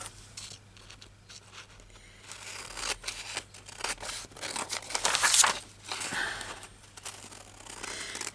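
Large scissors cutting through paper and fabric at a craft table, a run of irregular snipping, crinkling and tearing sounds, fairly close and moderately quiet, swelling louder for a moment midway.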